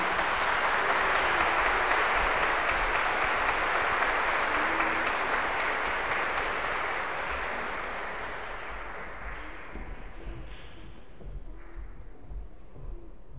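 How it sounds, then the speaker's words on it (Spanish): A church congregation at a Confirmation service claps in loud, sustained applause that gradually fades to scattered claps and faint background murmur over the final seconds. "Un fuerte aplauso."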